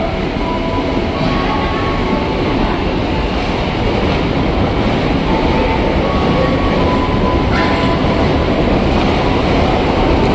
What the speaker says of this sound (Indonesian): KRL RRC Transit 2 berangkat dari jalur 2 stasiun Tebet